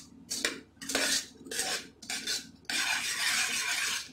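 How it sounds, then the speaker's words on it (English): A metal spoon scrapes and clinks around a pan of cooking sugar syrup for sugar glass, in bursts of stirring broken by short pauses, then a longer continuous scrape at the end; close and fairly quiet. "I'm still stirring."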